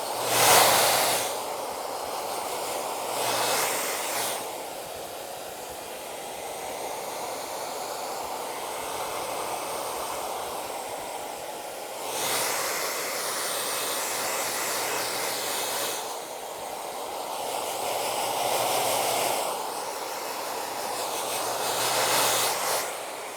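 A handheld blow dryer drying a client's hair after a haircut and beard trim at a barbershop, a steady close airy whoosh with the airflow swelling and easing in several passes.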